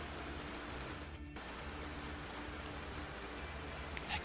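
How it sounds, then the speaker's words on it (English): Steady broadband hiss of summer rain in the video game Minotaur: Nod, a continuous wash with a brief dip partway through and no talk over it. "Novian summer rain seems to last for ages."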